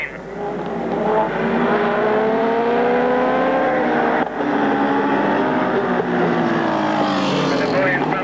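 Several race cars roar around a circuit in a Compac heat, engines loud and close, their pitch sweeping and overlapping continuously as they pass, with a brief dip midway.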